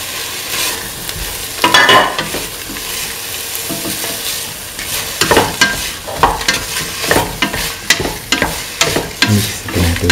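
Tomato pieces and salt stirred into a vegetable mix frying in a pan: steady close sizzling with repeated scraping and clacking stirring strokes throughout.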